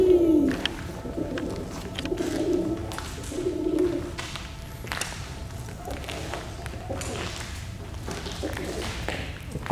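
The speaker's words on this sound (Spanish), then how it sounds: "es la misma paloma que ha estado haciendo ruido, sí," A pigeon coos inside an abandoned supermarket, a few low rounded calls in the first four seconds echoing in the empty space, followed by soft taps and thumps over steady background hum.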